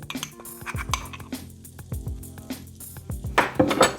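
A metal whisk works flour into melted butter in a pan to build a roux, producing rhythmic scraping and clinking strokes against the pan, close and fairly loud.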